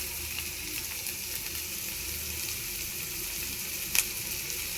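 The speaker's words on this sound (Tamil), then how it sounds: "வெங்காயம் செவுக்கணும். நல்லா செவுந்தால் தான் நல்லாயிருக்கும்." Sliced onions fry with a pinch of salt in a pan for potato puttu, giving a steady close sizzle throughout with one sharp clink of a utensil near the end.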